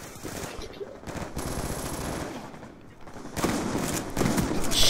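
Gunfire in Call of Duty: Black Ops 2 with shotgun shots, sharp reports scattered over busy game ambience, a couple of louder blasts toward the end.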